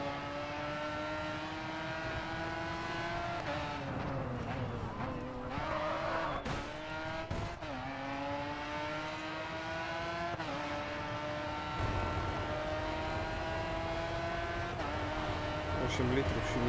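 A Koenigsegg sports car engine in the video game GRID 2 drones and revs, its pitch rising and falling as it shifts gears, with occasional tire squeals and a sustained mechanical whine throughout.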